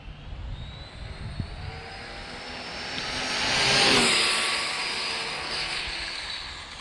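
A puller engine runs flat out at full throttle in a broad, steady roar that swells to a peak midway and then eases slightly, with no talk over it.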